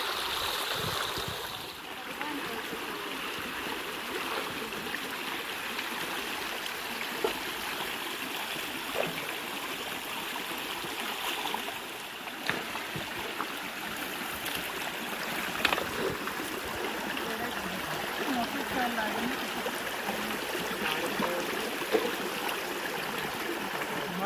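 Steady wash of a flowing stream in open countryside, running water coming in from both sides, continuous and close with small splashes throughout, no voices.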